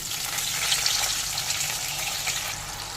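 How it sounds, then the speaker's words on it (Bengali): Water pours into a hot pan while hilsa fish curry cooks with nigella seeds and green chillies, a steady close gushing hiss that runs the whole short moment. "এবার দিয়ে দেবো অল্প একটু জল"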